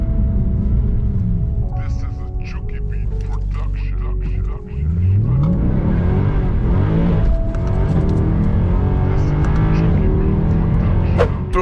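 A Mercedes C63 AMG accelerates hard from 20 to 70 mph, its engine rumbling low then rising through sweeping revs after a brief dip, heard from inside the car with talk over it.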